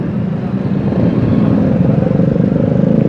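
Motorcycles and cars idle and creep along in a traffic jam on a hot day in Sahiwal, a loud, close, continuous engine rumble and drone that holds steady throughout, with no voices.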